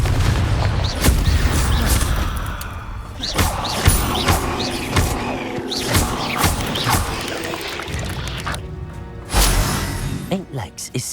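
Repeated Confringo spell blasts in Hogwarts Legacy on PS5, booming hits and crackling impacts going off one after another in combat, with a voice talking over the fighting.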